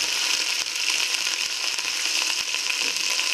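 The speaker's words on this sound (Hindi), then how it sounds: "तो अब मैं तड़का लगाने लगी इसके साथ डाल देती हूँ" Loud, steady sizzling and crackling of spices frying in hot oil, continuous throughout with no pauses.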